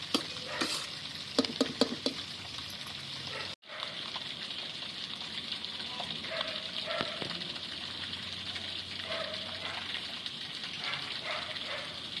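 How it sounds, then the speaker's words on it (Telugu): Boiled noodle mixture stir-frying in a pan, a continuous sizzle with rapid scraping strokes of a spatula early on, a brief drop to silence, then steady frying with occasional clinks. "ఇట్లా అన్నీ కలుపుకొని మనం ఫ్రై అయ్యేలాగా ఉంచుకొని కొంచెం ఫ్రై అయితేనే మంచిగా ఉంటుంది"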